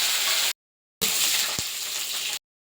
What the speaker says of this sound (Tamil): பூண்டு, கருவேப்பிலை போட்டு வதக்க போகிறோம்.